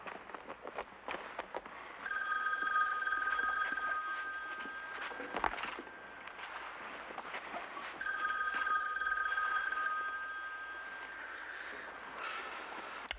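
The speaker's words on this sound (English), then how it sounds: "I answer the phone when I want to." An old-style telephone bell rings in two long bursts with a pause between, fairly loud in an indoor room.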